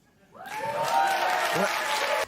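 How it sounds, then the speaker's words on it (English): Studio audience at a talk show breaking into loud sustained applause and cheering that swells up quickly after a quiet moment and holds steady, with a voice briefly audible beneath. "I haven't heard his audience applause so much for stuff like this before"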